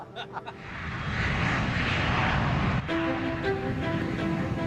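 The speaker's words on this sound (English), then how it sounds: "Takeoff's confirmed. Runway 36, full length." An easyJet airliner's jet engines spool up to a loud, steady roar for takeoff on the runway, broad and continuous after a brief lower start, with faint tones and a voice briefly heard over it.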